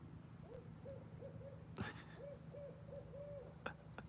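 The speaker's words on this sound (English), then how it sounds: "What's with the owl during the day?" An owl hoots in daylight, a steady series of soft repeated hoots at a moderate distance over a quiet outdoor background, with a couple of brief sharp knocks nearby.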